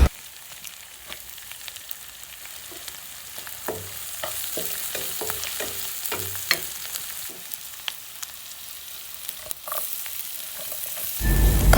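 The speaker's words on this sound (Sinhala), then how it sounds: "ඉස්සෙල්ලම තෙල් ටිකත් හට්ටියට දාලා අපි කරපිංචයි සුදු ලුණු ටික හොඳින් බෙදෙමු." Curry leaves and garlic fry in hot oil in a pot, crackling and spitting with scattered pops and stirring scrapes, the sizzle swelling louder toward the end.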